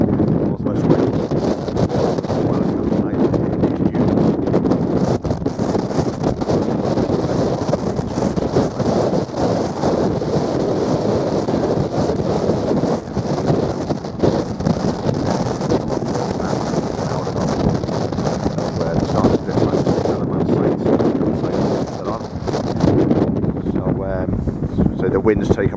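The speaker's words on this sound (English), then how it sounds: "So the wind's taking my voice here." Strong wind on the Harlech sand dunes in northwest Wales roars and buffets the microphone continuously and loudly, with a voice partly audible beneath the gusts.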